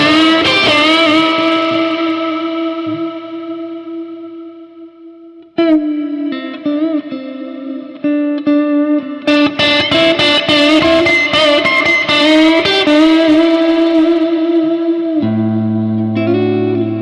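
Clean electric guitar through a Strymon Iridium pedal, notes ringing out with lush reverb trails, sustained chords decaying into space, then busier picked phrases, loud and close.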